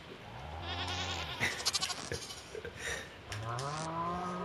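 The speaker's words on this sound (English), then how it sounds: "So I have Toby, Mac, and my other goat is Tate" Goats bleat in the farming game Stardew Valley, several wavering calls at moderate volume, with a brief clatter of other game sounds in between.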